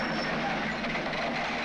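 A train runs on rails at a steady roar, a continuous rumble of wheels and cars passing close by, with no pauses.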